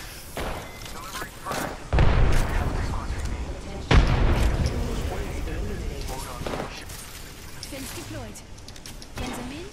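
Gunfire and heavy thuds in the video game Apex Legends, bursts of shots with loud impacts around two and four seconds, under near-constant talk from players.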